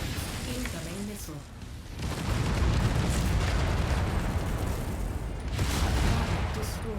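Missile explosions in a MechWarrior 5 mech battle, rumbling booms that swell and roll on continuously, with a radio-style voice heard briefly over them.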